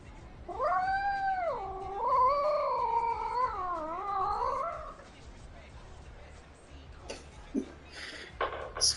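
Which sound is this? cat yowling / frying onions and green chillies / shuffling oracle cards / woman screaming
cat yowling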